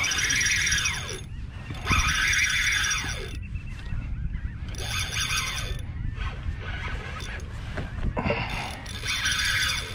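A fishing reel's drag screams in repeated high-pitched bursts as a hard-pulling bluefish strips line from a kayak off Long Island, with water and wind noise beneath.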